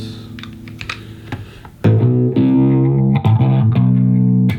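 An electric guitar played through an effects unit gives distorted, chorused notes and chords. A quieter passage leads into loud, sustained strummed tones with brief picking accents.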